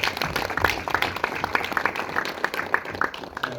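Audience clapping for a film director at a Q&A screening, a moderate patter of many hands, fairly close and steady, with some voices mixed in.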